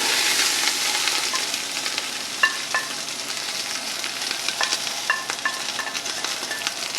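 Onions fry in olive oil in a pan, producing a loud, dense hissing sizzle from the first moment, with a few light spoon clicks and stirring taps mixed in, and no talking.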